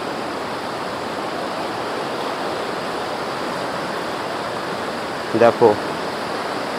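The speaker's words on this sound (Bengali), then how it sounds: "কিভাবে জলটা আসছে আর কোথা থেকে আসছে, এদিক দিয়ে কিন্তু জল আসছে।" A water stream flows beside dense jungle at the Basistha ashram in Assam, with a steady, full rushing wash throughout and a brief spoken word near the end.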